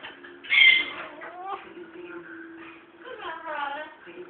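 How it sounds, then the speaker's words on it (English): Birds, likely doves, cooing outdoors in the background, a few soft rising and falling calls spread across the moment, fairly faint and quiet. "Hear the birds in the background."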